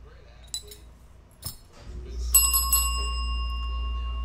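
A single bright bell rings out and lingers with a long shimmering decay, preceded by a few faint clicks and taps.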